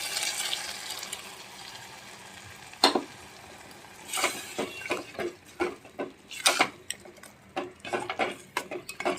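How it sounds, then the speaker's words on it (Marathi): Cooked peas tipped into a tomato masala frying in oil for Konkani-style misal, giving a clatter of utensil against pan, then repeated scraping and stirring knocks with a soft sizzle underneath, close and moderately loud, with no talking. "टोमॅटो नरम झाले आता आपण आपले वाटाणे शिजलेले घालू"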